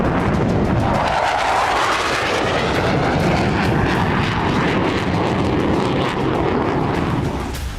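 A fighter jet engine, one of the jets sent toward the Middle East, roars loud and continuous with a broad rushing tone that holds steady throughout and is heard alone, without talk.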